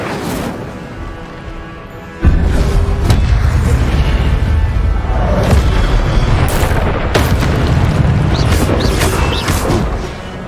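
A fire spell blast erupts in Hogwarts Legacy, a loud booming burst that sets off a sustained, roaring rumble with scattered crackling impacts that fades toward the end.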